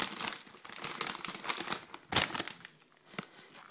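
Crinkly plastic wrapper of Goetze's Chocolate Caramel Creams candy being torn open and unwrapped up close, with irregular crackling rustles and a sharp tearing burst in the middle.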